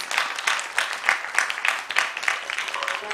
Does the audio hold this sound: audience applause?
yes